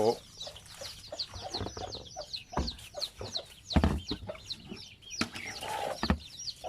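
Chickens on a Thai farm flock of about a hundred birds, kept semi-free-range, clucking and calling repeatedly in overlapping bursts nearby, with occasional rooster-like squawks and faint background noise.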